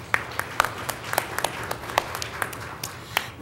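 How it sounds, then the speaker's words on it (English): At an asbestos awareness conference's opening session, a small audience gives faint, scattered hand claps, sparse and uneven, heard from a distance over a quiet room. "We'll do applause."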